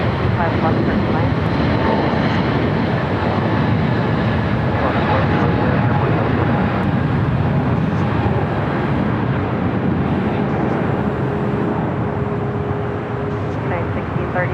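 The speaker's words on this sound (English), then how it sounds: "the United 777 now rolling down at 25 right" A United Boeing 777 rolls down runway 25 right at LAX, a loud, continuous jet engine roar holding steady throughout, with people talking over it.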